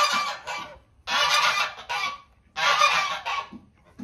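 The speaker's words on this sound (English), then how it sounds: "There is no way I can make this video with all of this going on. Gray Goose. Why is she doing this" A goose honks loudly and repeatedly at close range, in three bursts of harsh, nasal calls separated by short pauses, with no speech.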